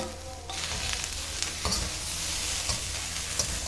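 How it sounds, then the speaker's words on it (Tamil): Tomatoes sauté in a pan for coriander crab masala, sizzling steadily while a spoon stirs and scrapes against the pan now and then. The sound is moderately loud and close, with no one speaking. "இப்போ வதங்கினதுக்கப்புறம் தக்காளி சேர்த்துக்கிறேன்"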